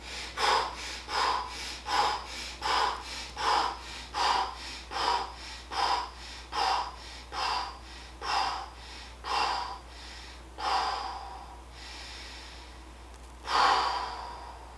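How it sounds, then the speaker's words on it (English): Slow, rhythmic breathing in through the nose and out through the mouth during a recovery exercise: about a dozen close, audible breath cycles, slowing toward the end with a pause before a final loud breath. "breathe in through the nose and out the mouth"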